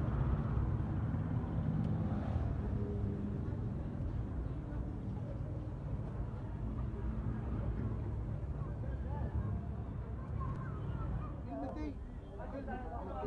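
A 13-horsepower diesel engine runs a wheat and clover threshing machine outdoors, giving off a steady low rumbling drone throughout. Wind buffets the microphone, and people talk in the background.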